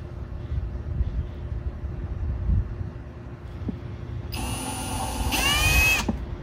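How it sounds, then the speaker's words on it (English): After a stretch of low background rumble, a power drill with its bit not seated properly whirs loudly and close for about two seconds, then stops abruptly. "Oh, I don't have the drill bit in there right"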